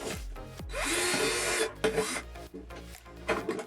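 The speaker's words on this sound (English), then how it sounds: "That should be all the drilling." A power drill bores holes for interior shelving inside a GeoPro 20BHS travel trailer, with a short whining burst near the start and a second brief run later, surrounded by scraping and handling noises at close range.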